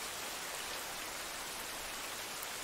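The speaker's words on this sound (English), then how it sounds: "I believe he's listening to the melody of the rain." Steady rain falls without a break, a dense even hiss of drops on surfaces close by, with no voices over it.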